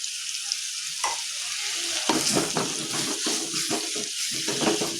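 Chili frying in oil sizzles loudly and close while a spoon stirs through it in repeated scraping strokes, a continuous hiss with rhythmic scrapes and no voices.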